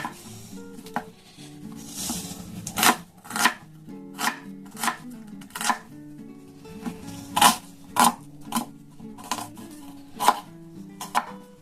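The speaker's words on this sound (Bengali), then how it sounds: "আমি এইভাবে পেঁয়াজগুলোকে কেটে নেব" Knife chopping onions in a home kitchen while preparing cauliflower kofta curry: a steady series of about a dozen sharp, close board taps at a brisk, slightly uneven rhythm over quiet background hum.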